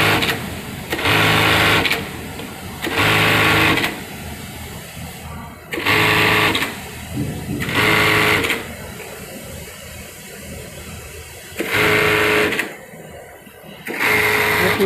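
A bartack sewing machine stitches loops onto garments in a busy garment factory, running in short, loud bursts of rapid stitching about every two seconds over a steady workshop hum.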